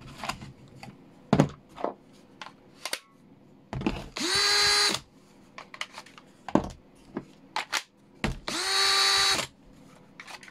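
Cordless power drill on a fake Makita battery whirs loudly in two short bursts, separated by clicks, knocks and handling noises.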